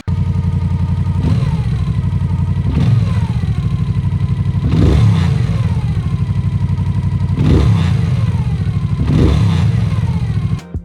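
A Moto Guzzi V7 with its longitudinally mounted V-twin engine runs loud and close, holding a rough, throbbing idle broken by five sharp throttle blips spaced every couple of seconds.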